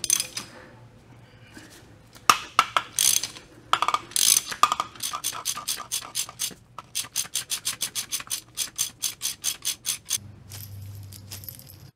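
A Harbor Freight bearing puller is cranked down to pull a bearing off the shaft of a ZF S5-42 transmission, giving rasping, ratcheting metal clicks that start irregular and settle into a steady close rhythm before a low hum.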